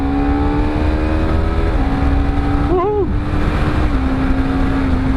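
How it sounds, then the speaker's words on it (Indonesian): Honda CBR250RR SP motorcycle with a quickshifter, steady loud engine drone with pitch steps at gear changes and a brief blip in the middle, heard up close under constant wind rush. "Jadi sebenarnya kita nggak usah pakai kopling pun dia sudah bisa untuk pindah gigi"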